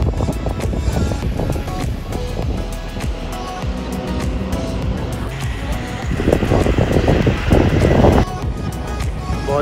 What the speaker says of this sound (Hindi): बहुत ही अच्छी हवा चल रही है